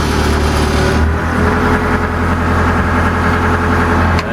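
A motor grader's diesel engine idling nearby: a loud, steady low rumble with a regular throb that dips slightly partway, then holds even, with no talk.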